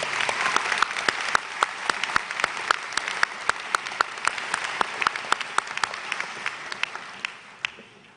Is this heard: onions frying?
no